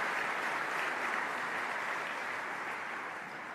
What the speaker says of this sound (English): Yeah, that's definitely a reason for applause